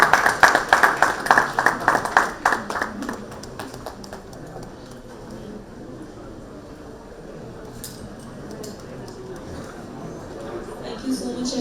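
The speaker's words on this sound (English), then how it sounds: "Can we also have a round of applause for all the dignitaries on the dais?" Audience at a conference session on toxic air clap for the dignitaries on the dais, starting as a dense, moderately loud burst of applause that thins out after a few seconds into scattered hand claps and low room murmur.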